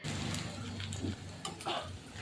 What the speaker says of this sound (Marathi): ह्या स्टेजपर्यंत कांदा तळून घ्यायचा जास्त लाल करायचा नाही